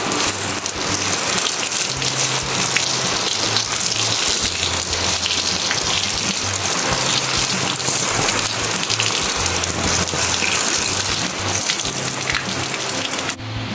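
Rainwater splashing and pouring steadily over freshly picked vegetables being washed, a dense continuous patter and gush lasting throughout without any voices.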